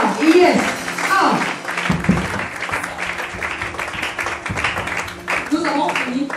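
A church congregation at a Thursday worship service breaks into steady applause, a dense patter of many hands clapping together, while a preacher's voice talks loudly over it.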